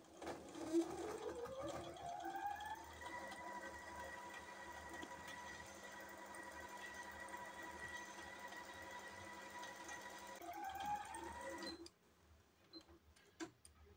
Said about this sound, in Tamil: ஸோ நான் சென்டர்லேருந்து ஸ்டிச் பண்ண ஸ்டார்ட் பண்ணுறேன்.